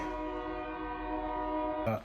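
A passing train sounds its horn nearby, a loud, steady, multi-tone blast that holds for about two seconds and then cuts off abruptly.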